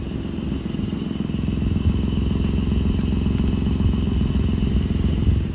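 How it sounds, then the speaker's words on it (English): A rental car's engine idles roughly, giving a steady, close, low rumbling clatter with an uneven pulsing texture throughout and no voices. "the engine doesn't seem to idle very well. And it idles, but it's like it's got a rough idle."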